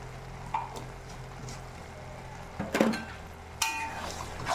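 Ghee sizzles in a pan of tomato curry under a steady frying hiss, with a few sharp clinks and scrapes as a utensil stirs it, heard alone without talk.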